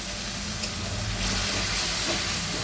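A paste of green chillies and yogurt going into hot oil for a Bengali doi katla fish curry, heard as a loud, close, continuous sizzling hiss that swells slightly partway through.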